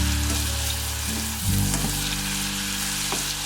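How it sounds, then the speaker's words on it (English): Food frying steadily in a pan, a loud continuous sizzle with a low hum beneath it and occasional stirring, heard up close with no voices. "And just fry that off."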